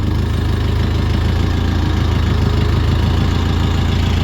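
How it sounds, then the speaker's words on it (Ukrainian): A Chinese-made tractor's engine idles steadily with a low, even rumble and rhythmic chugging, continuous throughout with no voices. "Заодно послухаємо мотори, як стрикочить мотор."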